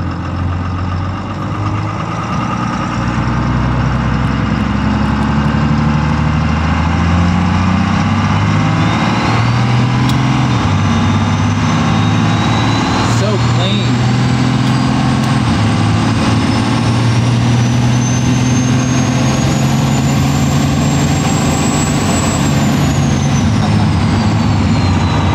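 An 800-horsepower hoodstacked first-generation 12V Cummins diesel truck with compound turbos and a full manual valve body, driving with a loud, steady low engine rumble and a turbo whistle that climbs and fades, no speech.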